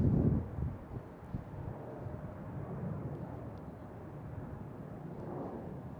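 A Delta charter airliner arriving at Boston Logan International Airport makes a steady low rumble, with a louder whoosh at the very start and a constant wind-blown roar behind it.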